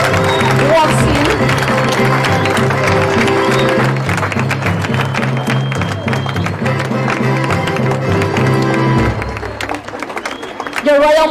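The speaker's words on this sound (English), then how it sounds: "Please keep clapping as he takes his seat." An audience at an 80th anniversary celebration keeps clapping steadily as the king, in traditional attire, takes his seat, with music and a microphone voice over the dense applause before it thins near the end.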